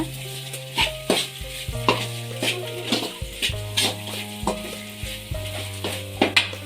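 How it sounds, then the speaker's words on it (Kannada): Drumstick pods fry in a pan as ground masala is stirred in: rhythmic scraping strokes and a gentle sizzle, close and moderately loud, over a steady tonal hum. "ಇದನ್ನು ಹಾಕ್ಕೊಂಡು ಚೆನ್ನಾಗಿ ಮಿಕ್ಸ್ ಮಾಡ್ಕೊಳ್ಳೋಣ"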